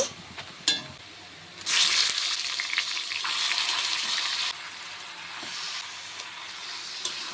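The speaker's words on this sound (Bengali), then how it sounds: "এখন আমি যে চিকেনটা ম্যারিনেশন করে রেখেছিলাম চিকেনটাকে দিয়ে দেব।" Marinated chicken hits a pan of light-brown fried onions with a loud burst of sizzling that holds for a few seconds, then settles into a quieter steady frying hiss with a few clinks around it.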